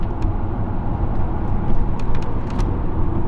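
A 1990s Subaru SVX touring car drives with a steady, loud road and engine rumble, continuous tyre and wind noise, and a few brief faint high ticks over the drone.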